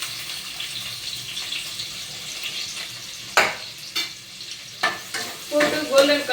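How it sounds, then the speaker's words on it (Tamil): Onion frying in hot oil for a homemade pasta, a soft sizzle under scattered stirring scrapes and clinks, with sharper knocks of the spoon toward the end. "ஆயில் சூடானோன்னா வெங்காயத்தை போடணும்"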